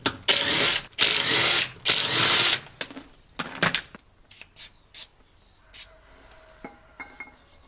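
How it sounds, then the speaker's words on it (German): An impact wrench with a 17 mm socket loosens the wheel bolts on an Audi A3. Three loud, rattling bursts come close together, followed by scattered metallic clinks and taps. "ihr benutzt einen Schlagschrauber mit einer handelsüblichen 17er Nuss"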